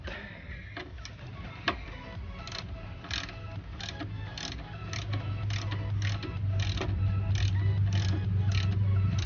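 Rapid clicking of a 6 mm Allen socket ratchet tightening a bracket bolt on a Suzuki Raider 150 motorcycle, a close, regular run of sharp ticks over a low hum.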